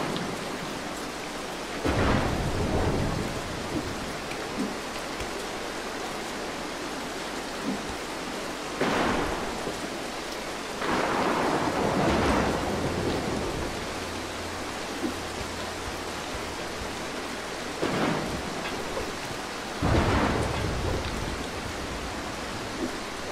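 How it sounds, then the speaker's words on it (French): Thunder and steady rain in the stealth game Mark of the Ninja, with deep rolling thunderclaps arriving roughly every few seconds over a constant hiss of rainfall, no voices present. "Those flashes of lightning could give the guards a chance to spot you."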